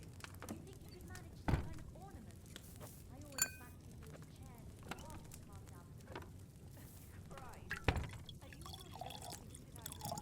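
Liquid is poured and drips while brewing a potion at a cauldron in Kingdom Come: Deliverance 2. Faint trickling and a few sharp drips sit over a quiet background, with a soft voice now and then.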